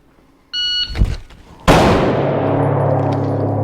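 A shot-timer beep sounds, then after a short pause a loud, close pistol shot rings out from a draw stroke at 7 yards, its report decaying into room echo.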